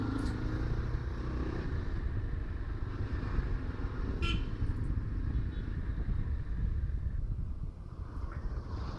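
A 2024 Yezdi Adventure motorcycle rides along narrow roads with a steady, continuous engine drone and wind rush heard from the rider's position, moderately loud throughout and without a break.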